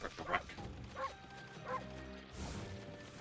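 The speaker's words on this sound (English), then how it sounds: "Why is this sassy dog just barking all over the place?" A dog in the Okami HD video game gives three or four short, sharp barks spaced about half a second apart, close and clear over a quiet game background.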